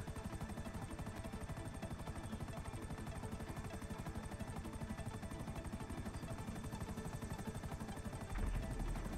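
A video game helicopter's steady rotor chop thrums continuously, fairly faint and even throughout, with no voices over it.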